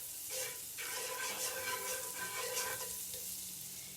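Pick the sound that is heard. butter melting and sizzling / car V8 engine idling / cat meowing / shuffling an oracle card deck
butter melting and sizzling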